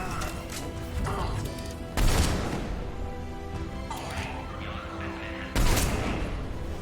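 A grenade blast and gunfire from the video game Mass Effect 3 crash out in loud bursts, with two heavy impacts among rapid shots and clatter, and a voice talks over the combat.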